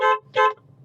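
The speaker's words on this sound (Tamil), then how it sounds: "நான் ஹாரன் அடிக்கணும்" A car horn sounds two short, close honks in city traffic, each a clear blaring tone with a brief gap between them.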